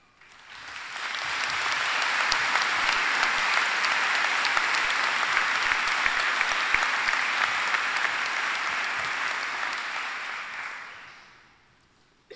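Audience at a UK university ceremony breaks into sustained applause, a dense, even wash of clapping from a large crowd that swells, holds for about ten seconds, then fades out.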